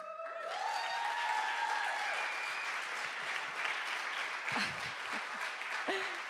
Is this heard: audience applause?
yes